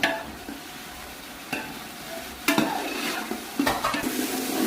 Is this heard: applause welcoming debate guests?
no